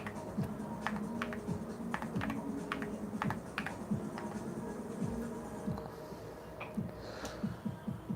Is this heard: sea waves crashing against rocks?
no